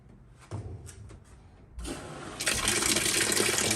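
Water gushes out of a washing machine drain hose into a wall drain, starting with a few faint splashes and then surging into a loud, steady rush that grows stronger near the end.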